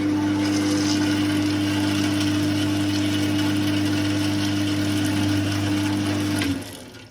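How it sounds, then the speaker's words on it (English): A machine's coolant pump runs in a workshop with a steady, loud motorized hum and strong low tonal drone, stopping abruptly near the end. "It also pumps, if you want to, you can pump coolant into it."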